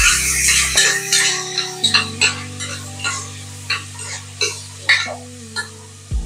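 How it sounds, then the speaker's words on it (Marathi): Spoon stirring peas and potatoes in a pan for Mumbai street-style pav bhaji, a series of soft scraping knocks at an irregular rhythm over steady frying sizzle and low background music. "थोडं हलवून घेऊ।"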